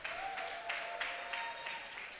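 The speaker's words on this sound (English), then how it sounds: "Please keep clapping, keep clapping" Faint, distant applause from an audience at the Abuja Photo Festival, a brief patter of steady clapping with no voices over it.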